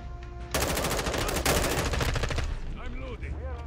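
Rapid bursts of M4 rifle fire in a video game, loud automatic shots in a dense stream lasting about two seconds, then fading as a voice speaks.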